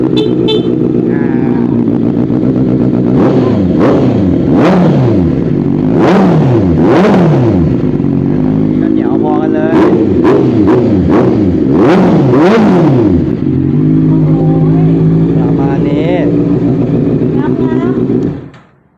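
A Honda CBR650R with an SC Project exhaust revs hard again and again, loud and close, each sharp blip rising and falling over a steady idle, with someone talking between the blips.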